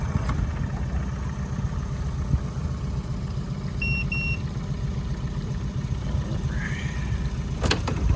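A jon boat's outboard motor idling as the boat eases into a point, giving a steady, close low rumble throughout, with a brief beep and a faint chirp partway through.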